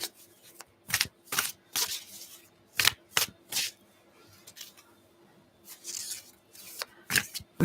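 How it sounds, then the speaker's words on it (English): Tarot cards are shuffled in short, crisp riffling bursts, a dozen or so spaced irregularly with quiet gaps between, close and soft, with no talking. "I can shuffle the cards so you hear that I'm still here"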